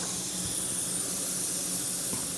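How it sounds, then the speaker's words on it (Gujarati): Mustard and cumin seeds sizzle in hot oil for a Gujarati-style capsicum sabji, a steady close hiss and crackle with no talk. "તો અડધી ચમચી રાઈ નાખું છું હું, અને અડધી ચમચી જેવું જીરું નાખું છું।"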